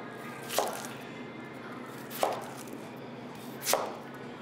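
A knife chops through an onion on a cutting board in three crisp, separate strikes about a second and a half apart, close and clear over a quiet kitchen background.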